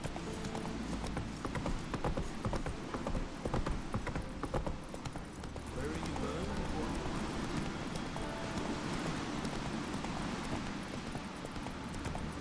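Geralt's horse Roach galloping in The Witcher 3, rapid rhythmic hoofbeats pounding close and steady over wind noise, easing into a smoother rumble partway through.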